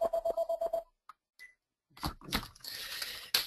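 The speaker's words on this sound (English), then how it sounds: "My phone is ringing." A mobile phone ringtone plays briefly as a repeating pulsed tone at the start, followed by a short pause and then scattered handling and tapping noises up close.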